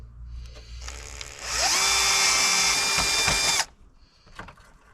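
A power drill bores a hole through the body of a Nissan 300ZX Twin Turbo for a self-tapping screw fixing a side skirt. Brief starts give way to a loud, sustained whine at full speed, then it cuts off, close up, no talk.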